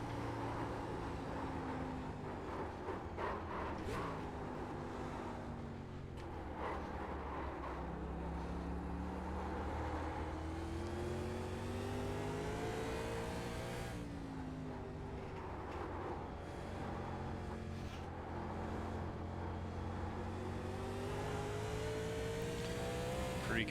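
A race car engine on a qualifying lap at Sonoma in a racing game, a loud continuous whine that rises and falls through gear changes and corners, with repeated upshifts and downshifts and no talk.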